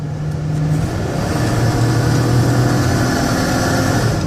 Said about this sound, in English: I want to drive them hard so you can hear the engine run, hear the transmission shift